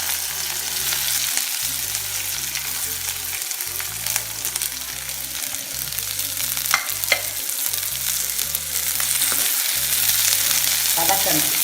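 Onions sautéing in oil with mustard seeds and black pepper for a Nagercoil-style onion pachadi, a loud, close, continuous frying sizzle with periodic stirring scrapes and background music, no talking.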